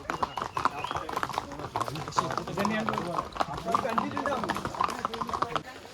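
Horse hooves clip-clop steadily at Matheran in a quick, close rhythm, with people talking over them.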